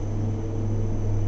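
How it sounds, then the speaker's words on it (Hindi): Helicopter flying overhead, a loud steady engine and rotor drone that holds constant throughout, with no voices. "हेलीकॉप्टर की आवाज़ है।"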